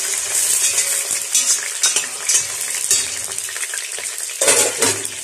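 Onions frying in a pan for a mutton, spinach and potato curry, a steady loud sizzle with scraping stirs and clinks of a spoon against the pan, no voices.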